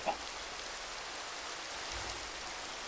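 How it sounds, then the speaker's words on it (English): Rain falls outdoors as a faint, even patter and hiss, continuous throughout, with a small click at the very start. "Oh, great, it's raining."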